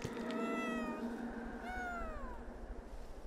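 A cat in the video game Planet of Lana lets out several drawn-out, plaintive meows over a steady game soundtrack, fairly close and clear with no talking over them.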